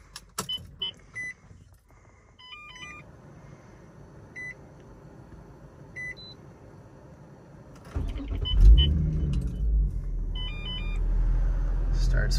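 A 2003 Infiniti G35 Coupe with about 229,000 miles gives a few electronic chimes and clicks with the key on, then the engine fires and settles into a steady low idle rumble.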